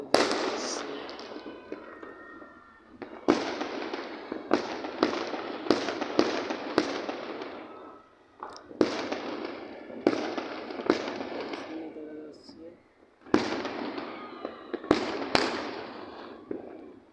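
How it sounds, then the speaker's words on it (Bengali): Fireworks bursting at a New Year celebration: repeated sharp, loud bangs and crackles in irregular clusters, some near and some farther off, with a faint voice now and then. "দেখেন কত সুন্দর করে বাজি ফুটে দেখছেন।"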